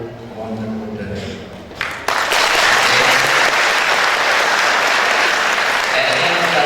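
Audience at a Vesakha Buddhist celebration bursts into loud, dense applause after a quieter stretch, sustained clapping from a large crowd filling the room.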